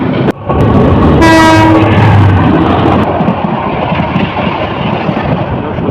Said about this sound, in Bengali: ট্রেন যেটি পরে যাওয়ার কথা থাকলেও এটি এখন তিতাসের আগে চলে যাচ্ছে